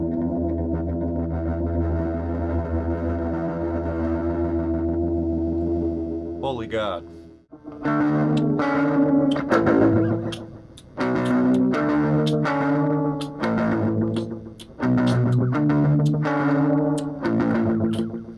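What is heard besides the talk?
guitar distortion from cranked trim on 4-track cassette recorder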